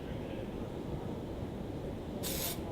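A single brief hiss of dry shampoo aerosol spray, sprayed about 12 inches from the hair in a salon, bursts near the end over a low, steady background hum.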